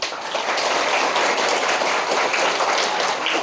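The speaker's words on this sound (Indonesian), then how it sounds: "berikan tepuk tangan kalian untuk Nusantara" Students at a school event for new pupils at an Indonesian junior high school applaud, a dense and continuous roar of many hands clapping that stays loud and even throughout, with no voices on top.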